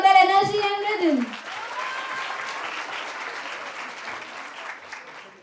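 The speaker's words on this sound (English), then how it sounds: "A big round of applause again for their energy and rhythm." At a school annual day celebration, a voice briefly speaks before an audience breaks into steady applause after a performance, the clapping dense at first and gradually fading over several seconds.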